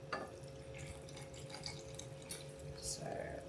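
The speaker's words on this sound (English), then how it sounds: "I just add 350 mils of tepid water, just lukewarm water" Lukewarm tap water is poured for sourdough bread dough, a faint continuous trickle and splash in a kitchen with a low background hum, soft and close.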